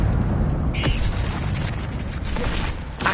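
Expelliarmus spell cast in Hogwarts Legacy, a sharp magical zap with a brief bright tone over a steady low rumble of in-game combat noise, followed by scattered clicks and bursts.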